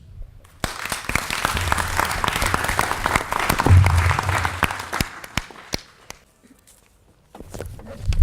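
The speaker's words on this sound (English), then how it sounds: "Another quick round of applause for Oscar." An audience at a business pitch event claps for a presenter named Oscar, sharp individual claps rising into a full round of applause that fades out, with a brief pickup of scattered clapping near the end.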